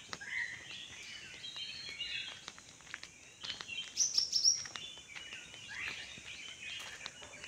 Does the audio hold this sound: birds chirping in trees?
yes